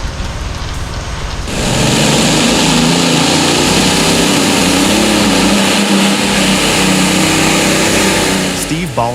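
Tractor powered by three Allison aircraft engines: after a quieter start, a loud, dense roar swells in and holds steady, with a hiss-like wash over a low engine drone.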